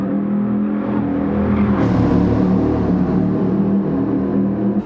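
A car engine in the Gran Turismo 7 racing game accelerates, its loud, steady, buzzing drone climbing under throttle and holding strong for the whole stretch, with no talking over it.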